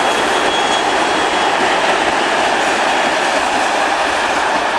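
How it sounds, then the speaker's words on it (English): A tourist steam train, the Cockle Train, rolls past close by at Victor Harbor, a steady broad rumble and rush of wheels on track holding loud and even throughout. "right on time we've got the cockle train"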